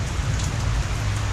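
Rain falls steadily at a race track where a GT350 is being tested, a dense, loud, even hiss of drops hitting the ground with no voices.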